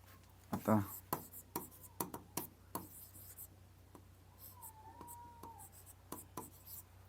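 Pen strokes scratch across paper in short, irregular bursts during a class 10 maths lesson, close and fairly quiet, with brief gaps between marks and a faint steady hum beneath.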